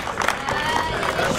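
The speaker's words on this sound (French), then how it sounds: "Vous pouvez à nouveau l'applaudir." Outdoor crowd at a hill climb race in Turckheim-Trois Epis clapping for the winner of the Nova NP03 Suzuki 1000, scattered applause mixed with nearby chatter and movement, moderately loud.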